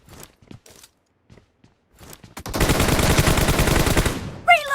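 Rapid automatic gunfire from the video game PUBG in a team deathmatch, a sustained loud burst of dense shots after a few scattered quieter sounds and footsteps, ending abruptly.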